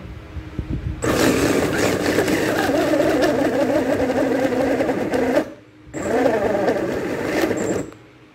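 An electric meat grinder runs loud and steady as it grinds pork in a home kitchen, with a brief stop partway before the motor restarts and keeps whirring.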